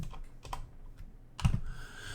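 Computer keyboard typing during Java programming work: a handful of sparse, crisp key clicks, then a louder cluster of close strikes near the end over a quiet room background.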